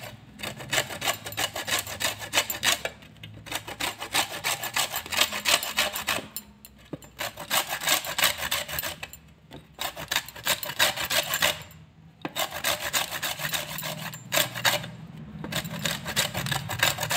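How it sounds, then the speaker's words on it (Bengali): A hand peeler scrapes the skin off Kagzi lemons in quick, close, rasping strokes, coming in repeated bursts with brief pauses between them. "লেবুটা ছোলার জন্য এই যে এটা নিয়েছি, এটাতে করে আমি লেবুগুলো ছুলে নিচ্ছি।"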